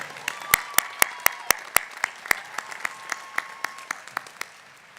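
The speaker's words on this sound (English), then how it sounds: "please join me in also giving a round of applause to the over 230 doctoral and master's degree recipients who graduated on Thursday." Applause from the audience at a university spring commencement ceremony, a crisp run of close, evenly paced claps over a softer crowd clatter that gradually thins out.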